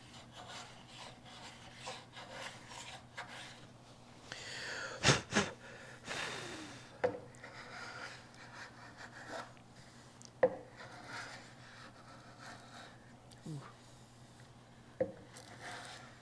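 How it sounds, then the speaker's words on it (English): Built-up glue being scraped off a wooden hinged box with splined miter corners, heard as soft rubbing and rasping strokes with a few sharper knocks midway, close and fairly quiet over a low steady hum. "Just get rid of that built up glue."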